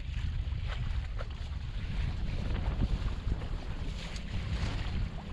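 Steady wind rushes and buffets the microphone while wing surfing on open water, with a constant low roar and faint splashing underneath and no pauses.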